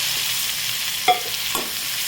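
Bitter gourd with masala is stirred and sautéed in a pan, a steady soft sizzle with two brief scraping clicks of a spoon against the pan.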